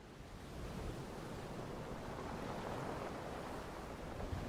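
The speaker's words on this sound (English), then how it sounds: "Also, the waves might be a little quiet," Quiet ocean waves as background ambience, a soft, continuous wash of surf with no distinct breaks, faint and steady for the whole stretch.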